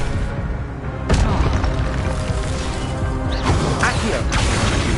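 A spell-casting burst in Hogwarts Legacy, the Expelliarmus disarming charm, hits with a sudden loud boom and crash over a steady game backdrop, followed by further magical impacts and whooshes.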